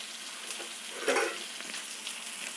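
Vegetables sauté in a pan, a close, even frying crackle with one brief louder stir or toss near the middle, and no talking.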